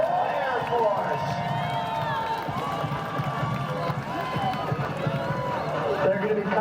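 A crowd of spectators at an air race show cheers and shouts steadily throughout, with scattered whoops and claps and an announcer's voice over the noise.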